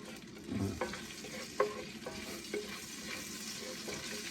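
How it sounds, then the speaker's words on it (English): Broken cinnamon stick pieces sizzle in hot oil in a pan with spices for chicken tikka masala: a steady close hiss broken by a few sharp clinks of stirring, with no one talking. "I'm going to just cook this for a few seconds until the cinnamon becomes fragrant"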